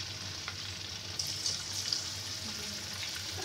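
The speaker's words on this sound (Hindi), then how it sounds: "तो ये देखिए, हमने इसे गरम गरम तेल में डाल दिया है फ्राई होने के लिए" Marinated chicken frying in hot oil over a low flame, giving a steady close sizzle and crackle throughout with a few slightly louder pops, and no talking.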